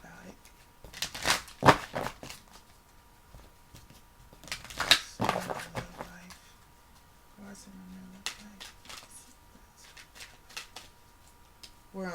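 Large tarot cards shuffled by hand in quick riffling bursts near 1–2 and 5 seconds, with softer handling and shuffling between, while a person talks quietly over the quieter stretches.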